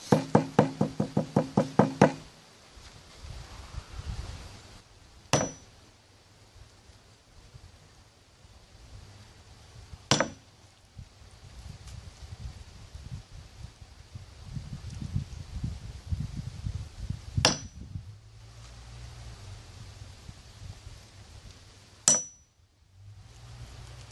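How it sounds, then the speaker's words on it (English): Homemade guncotton, or nitrocellulose, is tapped down into a mold to compress it. A quick burst of about eight rapid knocks opens, then four sharp, isolated taps follow several seconds apart over a low, steady rumble. "I'm going to tap it a few times to get it nice and flat in there"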